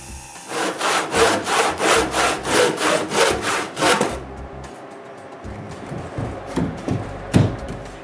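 Hand saw finishing a cut through thick wood, about eleven rhythmic back-and-forth rasping strokes close up, then slower scattered scraping and a few knocks.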